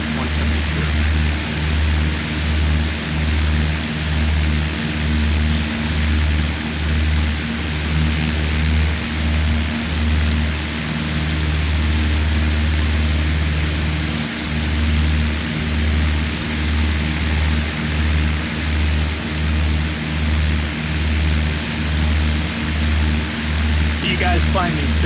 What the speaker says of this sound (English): Now the sound is being enhanced by the Echo 19 sound pack that I got for the 172.